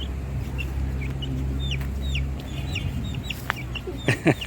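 Chicken clucks and short calls in a park over a steady low rumble, growing louder and more frequent toward the end.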